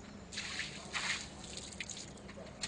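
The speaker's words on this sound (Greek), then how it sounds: "Εν συνεχεία ξεπλένουμε με νερό." A surface being rinsed with water, close-up drips, squishes and small splashes in uneven bursts over a steady wet background, with no voices.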